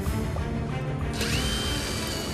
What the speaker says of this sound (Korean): 싱크대에 구멍을 뚫어 수평을 맞출 다리를 설치합니다